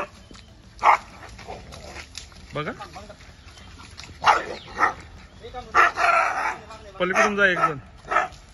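A rabid stray dog being captured by a rescue team yelps, barks and whimpers in several short bursts, close by and loud, while people nearby call out instructions to one another.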